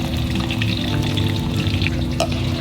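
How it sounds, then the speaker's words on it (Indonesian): Marinated fish fries in not-yet-very-hot oil, a steady close crackle and sizzle with scattered pops, continuous and without speech. "Ikannya udah selesai aku marinasi, sekarang tinggal digoreng. Ini aku langsung aja jatuhkan semua ikannya."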